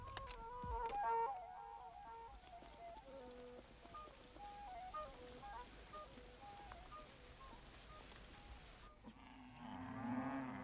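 Cattle on broad African plains low repeatedly in the distance beneath a melodic documentary soundtrack, the moos soft and intermittent before a brief louder burst near the end.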